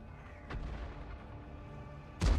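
An M53/M55 self-propelled artillery piece firing in World of Tanks: a muted, low thump early on, then a sharper, louder booming shot near the end over a quiet engine hum.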